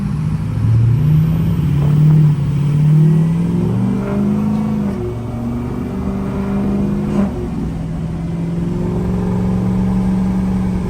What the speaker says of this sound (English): grab us a little 6-liter startup